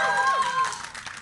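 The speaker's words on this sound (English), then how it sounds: "let me hear you guys cheer in the audience if you want Epic." Esports audience at an IPL3 tournament in Atlantic City cheering for Epic Gaming, a dense crowd roar with clapping that swells briefly and then thins under continued noise.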